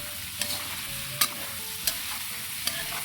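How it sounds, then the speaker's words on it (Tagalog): Steady sizzling of chicken frying in a pan, a constant hiss with a few small pops and light stirring clicks. "pirituin lang natin"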